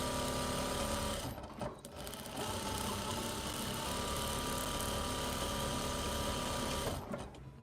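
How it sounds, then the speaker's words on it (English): A sewing machine stitches brand tags onto garments, its motor droning loud and close in a long continuous run, broken only by a short pause early on and slowing near the end. "I am sewing tags onto these garments right now"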